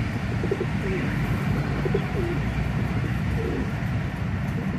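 Golden pigeons coo softly in a repeated series of low, throaty calls over a steady background rumble, several birds audible at moderate distance with no talking.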